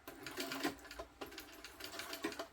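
Sewing machine stitching closed the bottom of a fabric bag, bursts of rapid mechanical needle rattle close by, quiet and stop-start with short pauses between runs.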